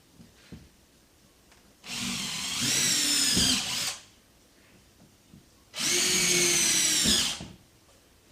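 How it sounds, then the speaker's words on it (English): A power drill bores two holes into drywall in two separate runs of about two seconds each, a loud whirring grind with quiet gaps between. "Okay, I drilled the 2 holes into my drywall."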